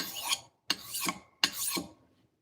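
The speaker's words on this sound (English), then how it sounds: "I've gotten used to sharpening it pretty quickly though, so that's a plus." Three distinct rasping strokes of a steel knife blade drawn across a sharpening stone, each about half a second long with short pauses between, close and clear with no talking.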